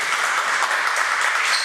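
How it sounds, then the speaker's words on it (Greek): Steady applause from a basketball team's crowd and bench as a player fouls out of a Winter Cup game, dense continuous clapping that fills the clip with no pauses. "Χειροκροτείται παρόλα αυτά από την υπόλοιπη ομάδα"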